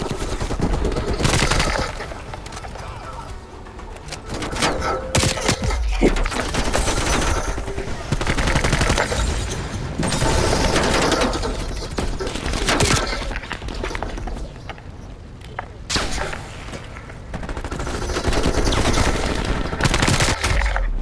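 Constant automatic gunfire from a first-person shooter match in Call of Duty: Black Ops Cold War, with dense rapid bursts and sharp cracks filling the whole stretch and brief lulls between volleys.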